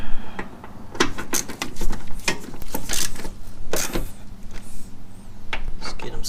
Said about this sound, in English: Let's just get these tightened up.